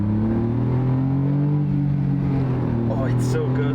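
A Smart car's small engine revs hard in first gear, a steady loud drone with rising harmonics on a road, close and continuous for the whole stretch.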